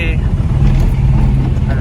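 Car moving through city traffic on a Saturday morning, a steady close engine rumble with road noise throughout, mostly under a person talking.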